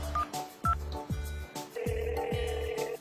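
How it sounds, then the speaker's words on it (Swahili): A telephone number is dialed, with a rapid series of close keypad tones followed by a steady ringing signal, and no voices. "Hebu tuwapigie simu watupe uhondo."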